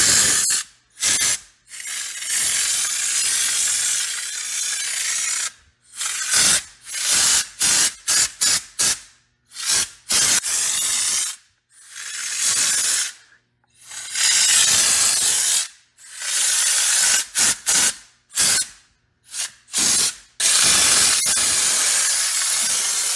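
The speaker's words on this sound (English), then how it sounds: "And it comes with the gun that screws right into the can. You just gotta add hardener. And this stuff, you can adjust the spray" A spray gun screwed onto a can applies cheap tractor paint mixed with hardener in loud, close hissing bursts of varied length with short gaps between them.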